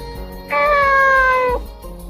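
A single drawn-out cat meow from the video game Nights of Azure, lasting about a second, clear and close over a low, steady game background hum.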